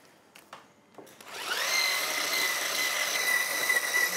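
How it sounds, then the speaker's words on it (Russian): An electric mixer starts beating butter with 150 grams of sugar for a nut cake, a few clicks and bumps followed by a loud, steady high whine that runs continuously to the end. "добавляю сахар прямо целиком весь к маслу. Начинаем взбивать."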